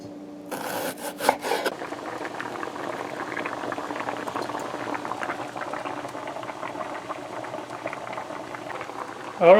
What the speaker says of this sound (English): our salted fish has been boiling for about 10 minutes